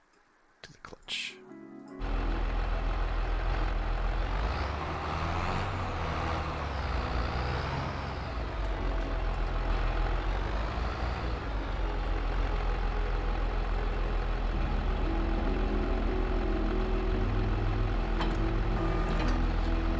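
Tractor in Farming Simulator 22, a steady low engine drone that starts abruptly after a brief clatter and runs continuously and loud, with a voice talking over it.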